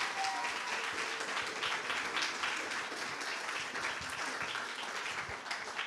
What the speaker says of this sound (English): Please, let's give a last round of applause for the Think Global School class in Vancouver 2024.